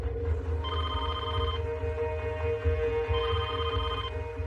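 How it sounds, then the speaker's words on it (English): A telephone rings repeatedly in a steady electronic warble, loud and close, over a low droning background with no speech. "I get a phone call."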